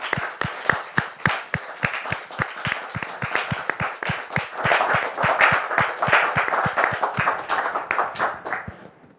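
An audience applauds to welcome a guest, with rhythmic, fairly even clapping that sounds like a small group beating in unison, steady for several seconds before fading out.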